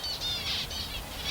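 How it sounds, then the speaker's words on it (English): Finches chirping and flitting near water in the bush, a quick series of thin high tweets in close succession with soft wingbeat flutter, faint against a low background. "Finches don't go very far from water at all."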